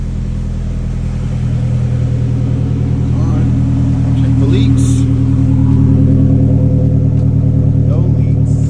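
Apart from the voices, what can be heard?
Mazdaspeed 3 engine running after fuel pump install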